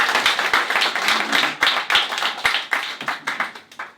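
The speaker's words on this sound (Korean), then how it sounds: "함께 박수를 쳐드립니다." A church congregation at an Easter Sunday service claps together, irregular close hand claps that thin out and fade toward the end.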